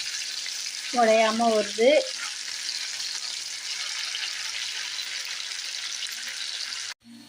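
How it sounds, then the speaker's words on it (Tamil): Anchovies fry in a pan with a steady hissing sizzle throughout, a brief voice speaks near the start, and the sizzle cuts off abruptly at the end. "நெத்திலி மீன் வறுவல்"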